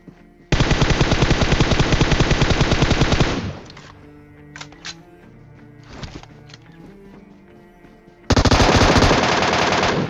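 Bursts of automatic gunfire in PUBG Mobile, a loud sustained rattling volley of about three seconds, then a quieter gap with faint scattered shots and game sounds, then another loud burst near the end.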